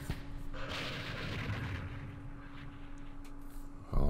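Rocket and mortar fire in the Vietnam war game Campaign Series Vietnam, a rumbling blast that swells and fades over a few seconds, followed by a sharp, loud impact at the end.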